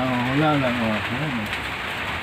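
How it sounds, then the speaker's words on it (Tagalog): Rain falling outside a house, a steady broad hiss of drops that runs the whole time while a person speaks briefly over it near the start. "Akala mo ah, hindi umuulan. Ayan, umuulan o."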